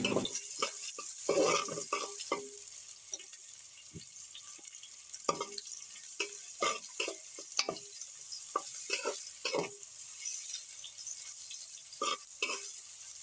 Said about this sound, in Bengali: মিডিয়াম আঁচে নিয়ে পেঁয়াজ মরিচগুলো ভেজে নিব।